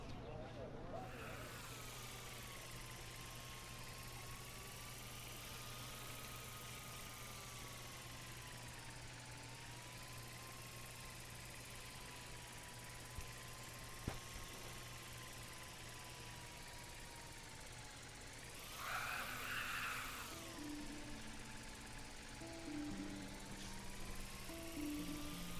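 A toy drone flies around a campus in Life is Strange, its steady buzzing hum running continuously over a low tonal drone and background game music, with a brief swell of louder whirring near the end.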